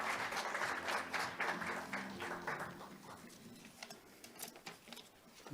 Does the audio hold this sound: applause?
yes